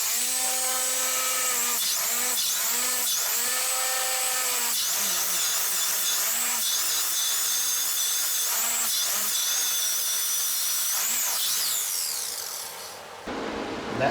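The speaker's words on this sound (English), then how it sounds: "So I'll have to clean that with a wire wheel and get in there and smooth that out a little bit" A wire wheel on a small grinder cleans a cracked wheel rim damaged by a pothole. The grinder gives a loud, steady whine whose pitch rises and dips as the wheel bites into the metal, then winds down near the end.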